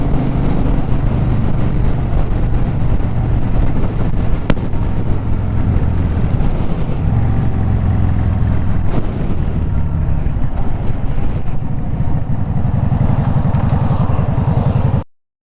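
A Yamaha V Star 650 Custom motorcycle pulls hard up a road near the beach, its engine a loud continuous drone heavily buffeted by wind rushing over the microphone, steady throughout before cutting off abruptly at the end.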